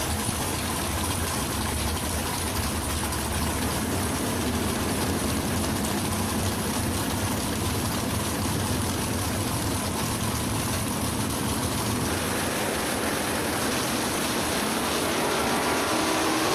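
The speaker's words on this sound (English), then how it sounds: "Dragster trying to zoom by in high gear." Drag racing car engines at a track: a continuous loud, broad engine roar holding steady for a long stretch, then easing slightly toward the end.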